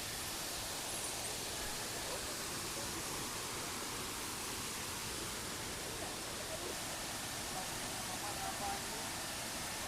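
Kanching waterfall in Malaysia pouring in a dense, steady roar of hissing water, loud and continuous throughout with no other clear sounds.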